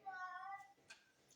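A pet cat gives a single drawn-out meow, close and fairly quiet, followed by faint soft noises in a quiet room.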